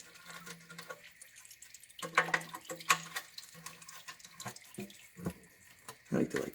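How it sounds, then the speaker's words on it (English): Transmission fluid drains and drips from the oil pan of a 2007 Chevrolet Impala during a fluid change, a trickling, splashing flow that comes and goes in short bursts, with a few louder splatters near the end. "And you're going to see more fluid drop."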